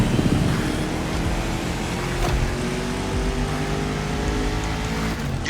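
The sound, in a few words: 1969 Mustang Boss 429 engine driving in video game The Crew Motorfest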